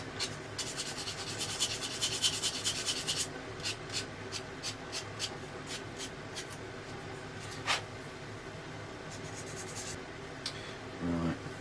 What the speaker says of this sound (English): I'm just going to sand that bit of flashing down and get that a bit flatter